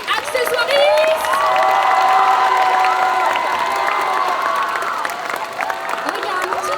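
A crowd applauds and cheers continuously at a cosplay contest, with whoops and children's shrieks rising over a steady wash of clapping.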